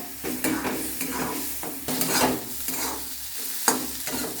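Poppy seed paste sizzling in a pan as it is stirred continuously with a spoon, a close, dense frying hiss broken by repeated scraping strokes and a small clink near the end.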